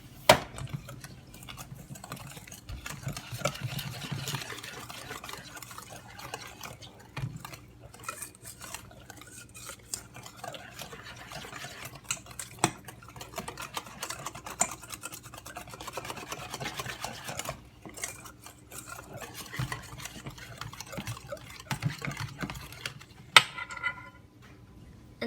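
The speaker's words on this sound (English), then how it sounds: "Now you'll want to mix all of your 3 ingredients together." Crepe batter ingredients mixed together in a bowl, a steady close scraping and clinking of utensil against the bowl that continues throughout at low volume.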